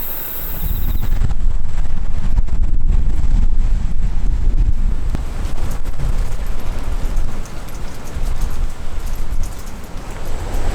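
Strong wind roars outdoors on the Sea of Okhotsk coast in Japan, buffeting the microphone in a loud, continuous rumble with gusty surges and no speech.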